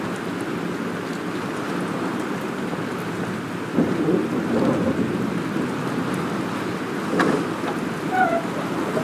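Heavy rain pours steadily during a thunderstorm in the game Life Is Strange, with rolling thunder swelling twice to louder rumbles and no voices heard.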